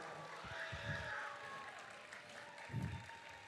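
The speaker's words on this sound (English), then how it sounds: "now let's give them a huge round of applause for making it so far" An audience at a FIRST Robotics district competition event in Gainesville applauds for Dean's List nominees, a soft sustained patter of clapping from a crowd with a couple of louder bursts, faint murmuring voices mixed in.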